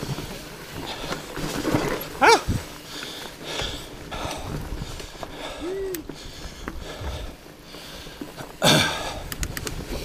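Close sniffing and snuffling bursts from puppies on a trail ride at Horse Hill, with a couple of short whimpering whines between quieter background noise.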